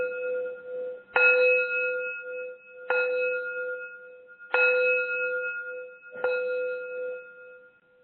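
A gong is struck four times at steady intervals of about a second and a half to two seconds. Each stroke rings out with a clear, sustained metallic tone in an otherwise quiet setting.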